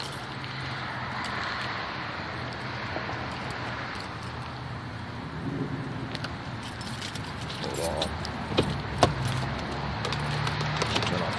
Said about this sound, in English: turn off the car for a minute